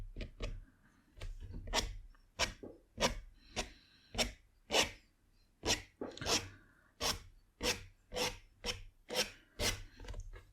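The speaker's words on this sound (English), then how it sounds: "I'm going to use the back of the palette knife to create some scratches." The back of a palette knife scratches across watercolour paper in about sixteen quick, rasping strokes at a steady rhythm, close and crisp with no talking.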